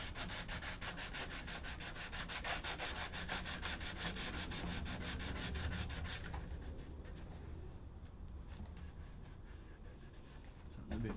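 Scooter plastic being hand-sanded with sandpaper, a quick rhythmic back-and-forth scratching, close and fairly quiet, keeping an even pace before turning softer and rougher near the end.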